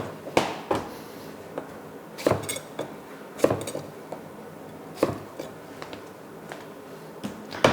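A kitchen knife chops radish into thin rectangular slices on a cutting board, giving sharp knocks at an uneven pace, close and crisp, with no talk.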